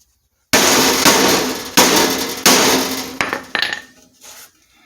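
Several sharp metallic hammer strikes on car body metal ring out one after another, each with a ringing decay, followed by a few lighter taps.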